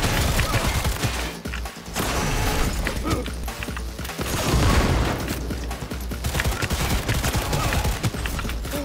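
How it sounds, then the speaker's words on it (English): Rapid smart gun fire in a Cyberpunk 2077 firefight, dense and loud bursts of shots with crashes and impacts running steadily throughout, no clear pauses. "Smart guns are so clutch to shoot around corners like this."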